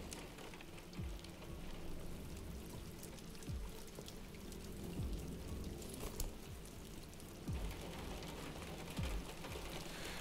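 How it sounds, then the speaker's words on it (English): Steady video game rain patters on an umbrella with a continuous wash of drops, occasional heavier splashes, quiet and close, with no talking, in Detroit: Become Human. "the different sound effects on the rain hitting the umbrella is pretty cool"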